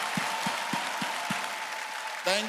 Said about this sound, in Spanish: Así que puedes aplaudir más a Jesús.